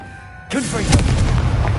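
Confringo, a blasting spell in Hogwarts Legacy, sets off a sudden loud burst after a quiet half-second, followed by a crackling, rumbling blast tail with whooshing tones, close and dominant.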